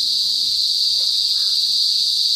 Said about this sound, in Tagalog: Narinig ko na yung mga ano ba yung kuliglig?